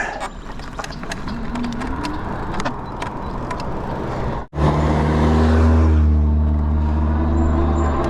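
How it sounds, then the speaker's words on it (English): A car approaches and passes on a rural road near tall grass and woods, a rising rumble that surges loudest about halfway through and stays heavy afterward amid wind noise. "Look, there's a car coming."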